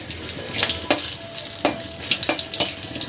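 Hot oil sizzles and crackles steadily, with sharp spitting pops every few moments as torn green chillies fry in a spice tempering in a pan.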